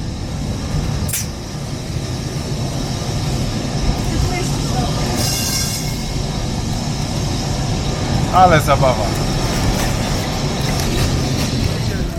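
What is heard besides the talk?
tram climbing hill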